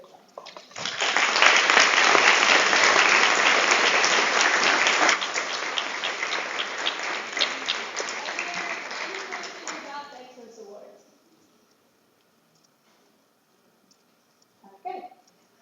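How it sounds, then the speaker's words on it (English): A large audience at a student veterinary general assembly breaks into loud sustained applause that swells quickly, eases midway, thins out and stops, followed by near silence and a brief muffled bump. "just to give them a big round of applause as well for obviously doing a good job."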